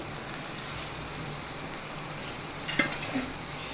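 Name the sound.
fried vegetables added and stirred in pan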